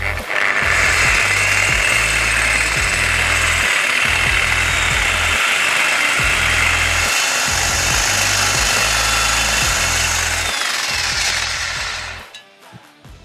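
Heavy core drilling through a wall during a major house renovation, a loud continuous grinding with rhythmic low pulsing bursts for about twelve seconds before cutting off.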